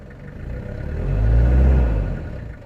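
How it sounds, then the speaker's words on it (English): A 1993 Toyota Hiace 4x4 diesel van engine idles and then revs up smoothly, the rumble swelling to a peak before easing back down, heard close by without speech. "engine's running strong and smooth"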